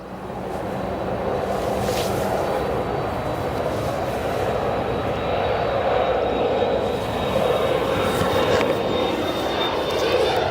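Jets depart O'Hare Airport with a constant, loud roar of engines and rushing air, steady across the whole stretch with no voices over it.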